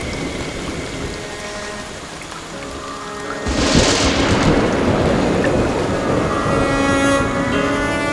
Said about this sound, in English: Rain falls in vast quantities in the forest, with millions of litres pouring down each day.